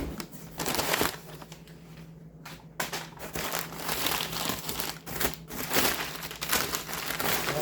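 Heavy packing paper crinkles and rustles inside a double-wall box while a Xeltek SuperPro 5004E gang programmer is unboxed, a steady close crumpling with sharper bursts throughout.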